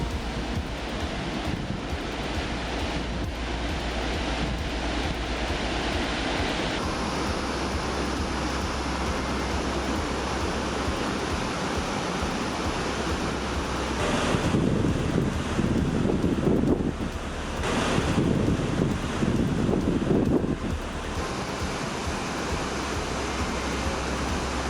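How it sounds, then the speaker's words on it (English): Tahquamenon Falls waterfall roars as a broad, constant rushing wash, loud and unbroken, with heavier wind-like gusts buffeting the microphone partway through. "Yep, that's a waterfall."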